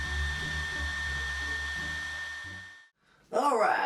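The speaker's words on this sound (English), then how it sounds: "I used a hairdryer to speed things up a little" A hairdryer blows steadily on bent wood veneer, a loud, close, continuous whir with a thin whine, then cuts off into near silence before a burst of different rising sound at the end.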